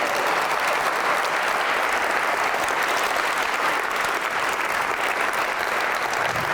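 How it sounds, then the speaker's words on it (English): Steady, dense applause fills the room as an audience claps for three musicians after a talk on jazz and improvisation, loud and unbroken from start to finish. "let's have a big round of applause for these three amazing musicians"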